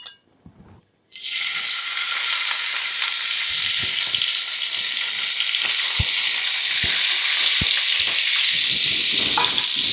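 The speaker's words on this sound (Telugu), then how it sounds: "ఈ టమాటాలు మనం ఫ్రై చేసుకోవాలి మంచి ఫ్రై అవుతున్నాయి కదా" Tomatoes frying in oil in a pan for paneer curry, bursting into loud, steady sizzling after a brief quiet start and continuing throughout with occasional faint stirring clicks; no voices.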